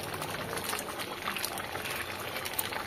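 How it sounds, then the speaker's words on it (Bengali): Chicken and new potato curry gravy bubbles at a steady simmer in the pot, a continuous close, even boiling with no voices over it. "এবার ঝোলটা ফুটছে।"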